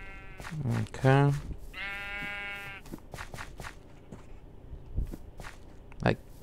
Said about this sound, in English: Sheep wants to keep going in and out,